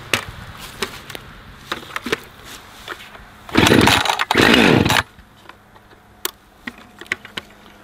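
Husqvarna 550XP Mark II or 545 Mark II chainsaw starting up: a loud engine burst of about a second and a half, a brief break, then another second of running before it dies, with scattered clicks and knocks around it.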